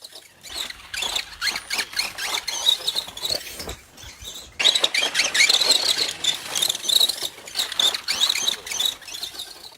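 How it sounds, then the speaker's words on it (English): RZ-motored RC racing buggy winding up on an outdoor race track, a high whining rev that rises and falls repeatedly, growing louder and more intense in the second half. "There's a really nice sound that comes from this buggy when it's winding up. That RZ motor is just beautiful"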